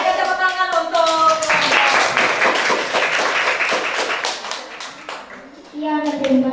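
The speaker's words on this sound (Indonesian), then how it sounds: "Berikan tepuk tangan untuk" Classroom applause for a student group after a presentation on the digestive system: many hands clapping loudly in a dense burst for several seconds, with voices speaking before and after.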